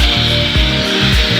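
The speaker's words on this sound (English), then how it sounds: "I'm going to come back in with my brush wheel, and I'm going to sand down the rest of this leg." Brush wheel sanding down a wooden table leg during a bleached-wood furniture makeover: a loud, close, continuous abrasive whir with a few rhythmic dips as the wheel passes along the leg.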